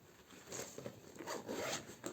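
Zipper being pulled open on a new bag unboxed from a shipped box, one steady close rasp lasting about two seconds, soft and alone.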